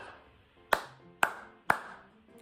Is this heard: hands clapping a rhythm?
yes